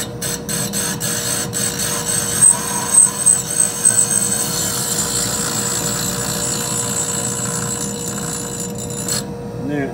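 Grinding a workpiece on a machine in a machine shop: a steady, loud mechanical whir with a few rhythmic pulses in the middle and scattered clicks.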